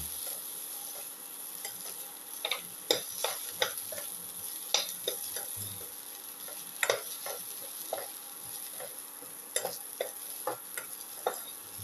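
Ginger, onion and shallots sauté in a pan with a steady, quiet sizzle, punctuated by scattered clicks and taps as a spatula stirs. No voices.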